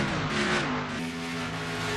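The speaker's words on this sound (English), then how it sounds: "That's the sound of the race cars." Engines of stock-style race cars in a Piston Cup racing video game at the Pocono Raceway triangle oval, a dense, continuous roar with rising revs and a slight dip midway, loud and steady with no talk over it.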